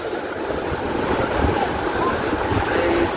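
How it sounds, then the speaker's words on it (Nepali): Broad, steady rush of falling water at the 131-metre Pokhali waterfall heard from a crowded spot nearby, with wind and faint voices blended into the continuous roar. "ल झरना चाहिँ यही हो।"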